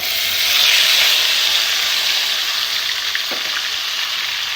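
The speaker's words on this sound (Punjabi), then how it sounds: "ਲਓ ਜੀ ਜੀਰਾ ਆਪਣਾ ਤੜਕ ਗਿਆ ਹੁਣ ਇਹਦੇ ਵਿੱਚ ਪਿਆਜ਼ ਐਡ ਕਰ ਦਾਂਗੇ" Onions dropped into a pan of sizzling cumin tempering for black chana gravy give a steady, loud frying hiss that fills the clip, with a brief sharper crackle near the end and no talk.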